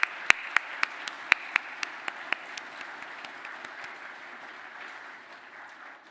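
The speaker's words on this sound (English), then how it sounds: "give a round of applause for those who have supported you over the last couple of years" Claps from a graduation ceremony audience, opening with a few sharp, distinct claps close by over a thinner crowd patter that fades gradually toward the end.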